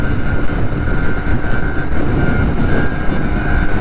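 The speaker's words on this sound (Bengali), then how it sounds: "গুডসের ট্রেন যাচ্ছে।" A goods train passes near Kolaghat in a loud, continuous rumble with a steady low roar and a faint whine. No voices can be heard over it.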